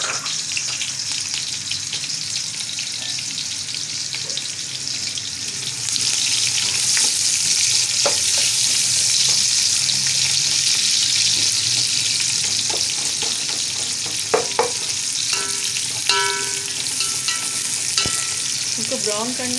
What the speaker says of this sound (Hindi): ऑयल गर्म हो चुका है, अब हम इसमें प्याज डाल देंगे।